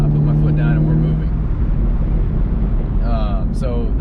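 A 2019 Chevrolet Camaro 1LE accelerating in fifth gear from about 2,000 RPM, its engine a steady loud low drone with wind rush throughout, while someone talks over it early on.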